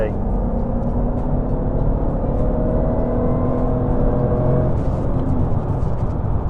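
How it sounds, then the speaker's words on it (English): Jaguar XJR X358 in sport mode accelerating on the road, a steady loud engine drone with rising tones heard from inside the car, a voice speaking over it. "just pop it in sport, just press the loud pedal"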